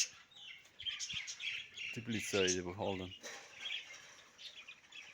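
Canaries and budgerigars chirp faintly in the background of an enclosed aviary while someone talks over them.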